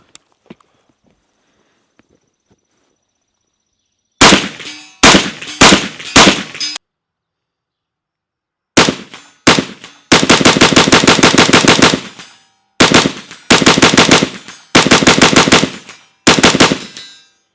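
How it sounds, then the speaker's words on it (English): Rapid semi-automatic rifle fire from a CMMG BR4 in .223 with a 16-inch barrel, shot from a bipod at steel: a few sharp quick bursts, then long fast strings of loud, close cracks separated by short pauses. "I can pull that trigger as fast as I can and stay on a C-zone steel plate"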